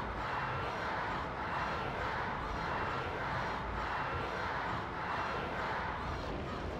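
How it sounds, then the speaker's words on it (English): A stadium crowd roars at a blitzball match in the Final Fantasy X HD Remaster game, a dense, continuous wall of cheering that holds steady throughout with no speech on top. "The crowd is going wild."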